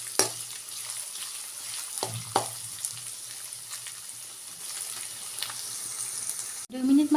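Onion, ginger and garlic sizzle quietly in a pan for a cauliflower dish, with a few scraping stirs in the first half and a short burst of speech at the very end.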